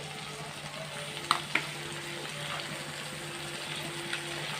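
Tomato pieces fry in a pan for a cluster bean curry, giving a steady, quiet sizzle with a couple of soft clinks near the start and no talking.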